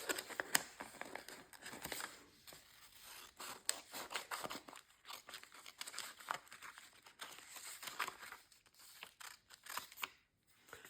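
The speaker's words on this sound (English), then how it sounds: "I wish I had my big scissors" Small scissors snipping and trimming paint sample paper for a junk journal, a steady run of close crisp cuts with paper rustling and crinkling between them.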